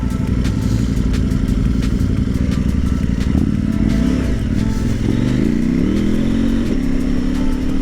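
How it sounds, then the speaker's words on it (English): Two motorcycles riding past on Keefers Bypass, their engines loud and close throughout, with the pitch climbing and swooping as they rev and pull through. "we are waiting up for two bikes over here."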